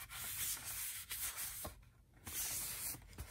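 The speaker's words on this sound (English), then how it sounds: "I'm just doing a general wipe down and clean up" Cloth wiping over a sanded motorcycle part to clear dust and oil, a close, steady rubbing swish in repeated strokes with brief pauses between passes.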